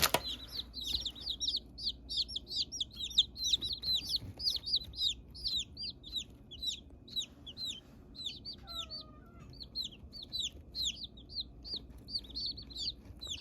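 Baby chicks peep continuously and shrilly in a garage brooder, a dense overlapping chorus of rapid high chirps close by, with faint background hum and no talking.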